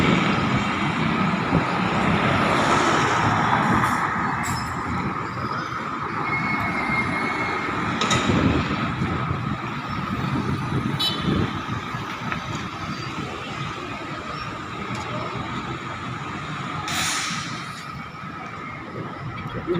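Heavy road traffic on a concrete street, with many vehicles moving past in a steady, dense roar that swells slightly as individual cars go by, with no clear voices.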